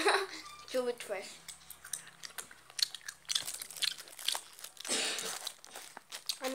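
Crunchy chewing and biting of food during an eating challenge, with repeated close mouth sounds and crinkling, mixed with people talking.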